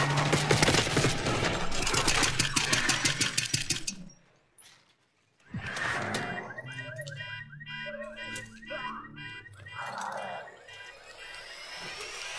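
Rapid gunfire in Black Ops 6 during a street ambush on an arriving limousine, dense bursts for about four seconds, a brief drop to near silence, then renewed shots and mechanical clatter of varying loudness.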